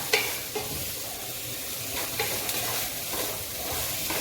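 Pork and koorka (Chinese potato) stir-fry in a pan with a loud, dense sizzle and repeated scraping stirs, close and steady throughout.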